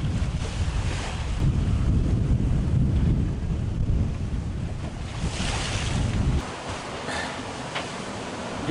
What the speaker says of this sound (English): and then the wind started picking up